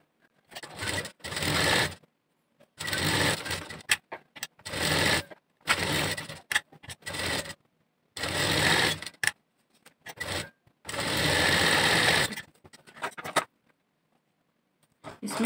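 A sewing machine stitching the back neck of a blouse runs in repeated short bursts of whirring, separated by quiet pauses, loud and close, with no talk.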